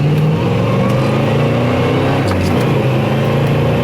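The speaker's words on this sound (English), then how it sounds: "with that 2-barrel and that 350, you can rev this thing up" A 1970 Chevy Chevelle with a 350 V8 and two-barrel carburetor revs loudly and steadily, a thick, continuous engine roar held close up with no talking.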